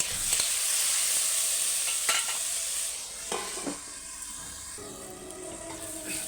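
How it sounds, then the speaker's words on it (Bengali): Tomatoes with turmeric are stirred in a pan for chutney, a close sizzle with several scraping spoon strokes that settles into a softer, quieter frying hiss partway through. "হলুদ গুঁড়ো দেবো দিয়ে টমেটোটা একটু নেড়ে চাপা দিয়ে দেবো"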